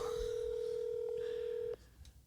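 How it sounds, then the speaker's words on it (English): A telephone call being placed gives off a steady dial tone that stops abruptly, followed by a few brief, faint keypad tones in quiet room sound. "I'm gonna see if we can actually get Justin on the phone"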